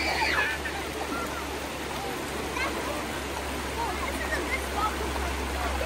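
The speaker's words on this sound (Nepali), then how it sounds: "माथिदेखि पानी आइरहेको छ" A steady rush of water pours down from above in a memorial park and forms a continuous background, while voices and the sounds of children playing come through over it.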